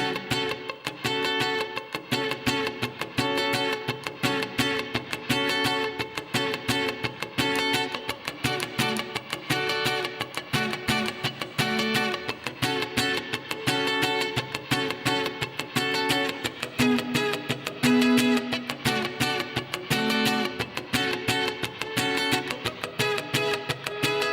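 An electric guitar strums a steady, choppy funk rhythm with slightly distorted tone, continuous and close, no voices.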